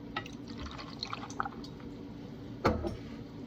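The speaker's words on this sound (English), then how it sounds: "we're gonna start with 1 ounce of vodka" One ounce of vodka poured for a peach cosmopolitan: faint, quiet liquid trickles and drips at close range, ending in a short splash and clink near the end, with no talking.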